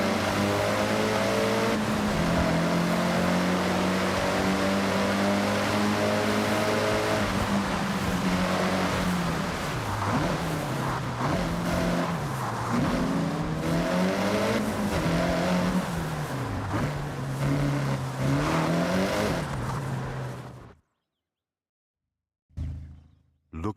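A rally car engine with turbo and anti-lag in Forza Horizon 6 revs hard for about twenty seconds, the pitch climbing and dropping through gear changes with crackling pops, then cuts to silence before a brief burst.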